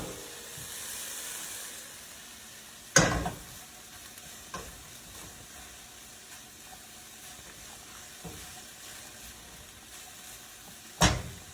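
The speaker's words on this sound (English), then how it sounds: "as soon as that comes to a little bit of a boil, I'll turn that down and just let it simmer" Chicken stir-fry sauce simmering in a pan, a steady low hiss and gentle sizzle running throughout, broken by a couple of loud utensil clanks near the start and end, with a few softer taps in between.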